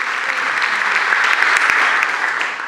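An audience at a speech breaks into strong sustained applause for the CONEA and INVAP nuclear agencies, a thick wash of clapping from a crowd that stays loud throughout without talk.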